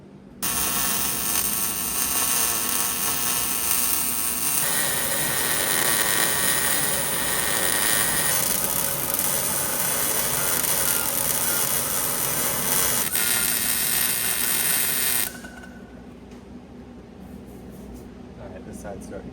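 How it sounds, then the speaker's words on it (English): Steady loud buzzing hiss of a welder laying beads on a solid front axle for a Duramax swap, holding for about fifteen seconds before cutting off to a quieter background hum, close up. "I'm gonna hit a couple welds here, hit a couple welds on the other side"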